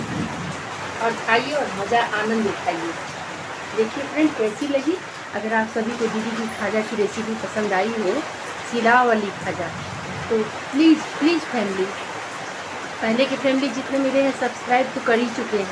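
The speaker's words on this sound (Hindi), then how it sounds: "बाहर बहुत ज़ोरों की बारिश हो रही है" Heavy rain falls outside a home kitchen, a steady broadband hiss running the whole time beneath continuous close talk in Hindi.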